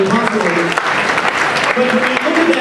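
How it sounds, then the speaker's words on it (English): Loud sustained clapping from a room full of people at an evening event by a pier, dense and continuous with some cheers and voices mixed in. "So you give yourselves a round of applause for making it possible."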